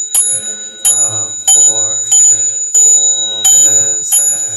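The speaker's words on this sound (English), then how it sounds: "along with the sound of the bell" A bell at a Buddhist temple Sunday service is struck about seven times at a steady, unhurried pace, each bright metallic strike ringing on with a sustained tone that fades under the next. It sounds fairly close, with no talking.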